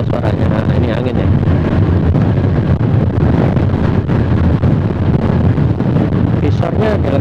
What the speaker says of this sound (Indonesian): Nah, ini angin ya.